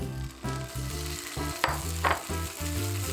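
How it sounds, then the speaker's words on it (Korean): Soaked wood ear mushrooms stir-frying in a pan with sesame oil and soy sauce, a steady soft sizzle with a couple of brief utensil scrapes, with music playing along throughout. "살짝 볶아줍니다."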